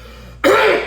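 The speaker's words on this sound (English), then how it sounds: "Clear my throat." A single loud, close throat clearing bursts out after a brief quiet pause, harsh and raspy, standing alone with no talk around it.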